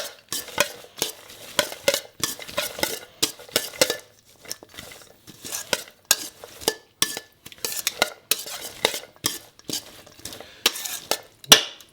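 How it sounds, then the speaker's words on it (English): A spoon stirs remoulade in a bowl with quick, scraping clinks against the sides. The strokes come in close, irregular bursts with brief pauses between them. No one speaks. "Give it a little mix."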